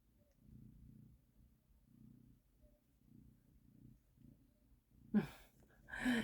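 A cat purrs softly up close in a quiet room, a slow rhythmic rumble rising and falling in several gentle cycles, followed by a couple of brief louder rustles near the end.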